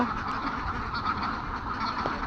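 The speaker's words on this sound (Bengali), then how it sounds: "এই ডোবাটাতে হাঁসগুলা" A flock of ducks quacks steadily in a village pond on a rural duck farm in Bhola, a continuous busy chorus with no clear breaks.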